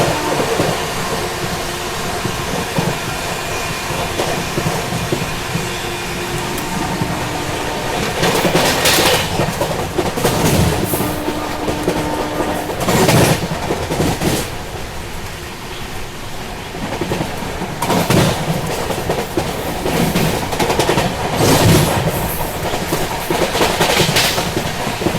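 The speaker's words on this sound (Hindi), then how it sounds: "अरावली एक्सप्रेस लूप दे क्योंकि पीछे से रणथंबोर एक्सप्रेस आ रही है" Express train rumbling along the railway while another express overtakes it, a steady loud roar of wheels and carriages with repeated louder surges as passing sections and wagons rush by close.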